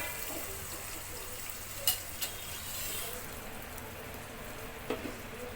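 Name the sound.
brinjal frying in oil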